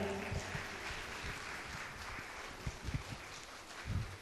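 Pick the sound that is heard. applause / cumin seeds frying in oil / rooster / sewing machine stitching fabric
applause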